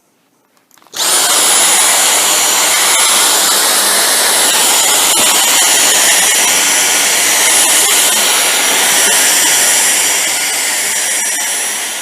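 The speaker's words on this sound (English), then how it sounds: "We're going to vacuum for a bit" A Dyson V6 cordless vacuum cleaner cleaning a mattress starts up after a second of silence, then holds a loud, steady, high-pitched whine with a broadband rush of suction for the rest of the clip, with no talking.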